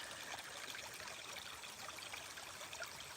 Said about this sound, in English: Like the tone of water playing on rocks.